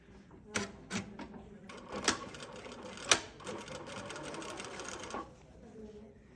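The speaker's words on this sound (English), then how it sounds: "I'm just doing like a circular stitching, so I have to move a bit the piece towards that direction." A sewing machine runs a circular stitch as the fabric is turned, with a quiet, steady mechanical rattle and a few sharper clicks and knocks nearby, then it stops near the end.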